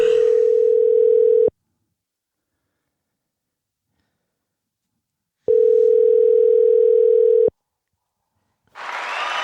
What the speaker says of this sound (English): Let's get Jules on the phone